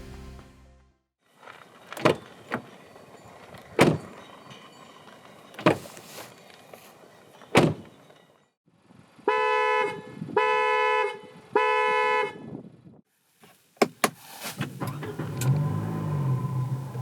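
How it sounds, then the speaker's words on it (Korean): A 2021 Renault Samsung QM6 gives a series of sharp door thuds and latch clicks, then short repeated electronic chime tones, then a low idling engine rumble at the end, all close and with no talk. "잠시 QM6가 들려주는 감성 측면의 소리를 들어보겠습니다"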